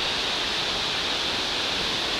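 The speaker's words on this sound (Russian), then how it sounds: "И это звучит достаточно водопадно, как было в прошлом видосе." A rushing mountain stream in Mtirala national park roars like a waterfall, a steady, loud, unbroken hiss of water close by with no voices.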